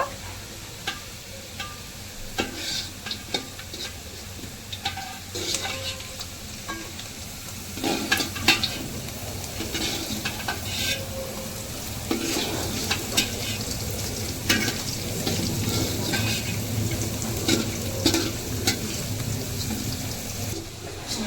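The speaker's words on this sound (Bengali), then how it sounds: "পেঁয়াজটা মোটামুটি ভাজা হয়ে গেছে" Onions sizzle steadily in a pan during home biryani cooking, with frequent spatula stirring and scraping close by, the frying growing louder midway; no voices.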